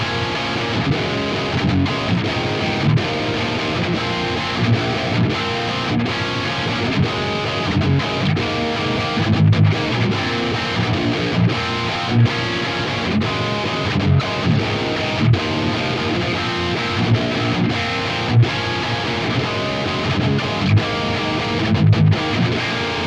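An electric guitar played through a Neural Amp Modeler full capture of a Freeman HBE amp, with reverb and gate switched off, gives dense, distorted, sustained chords and riffs at a steady, loud level throughout.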